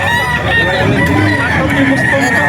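A rooster crows loudly and close by, a long harmonic call held over steady background noise and some faint voices.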